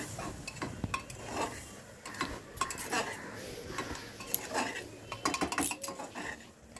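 Spice masala is stirred and fried in a pan with a little water while making a mutton lung curry, giving repeated metal spoon scrapes and clinks against the pan over a low sizzle.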